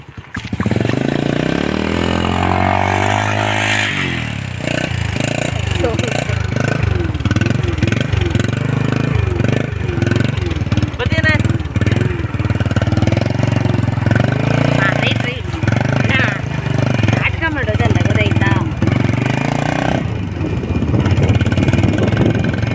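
A motorcycle engine runs steadily while someone talks over it. The bike is heading along a road to a relative's house, and the engine drones on under the voices for the whole stretch.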